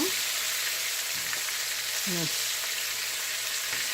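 Catfish fillets fry in a pan for sandwiches, a steady broadband sizzle running throughout with a few brief scraping clicks from a utensil as they are turned.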